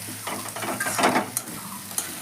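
Grated egg stirred into a potato mixture in a hot pan, frying with a steady close sizzle and scraping stir strokes through the short stretch, with no talking.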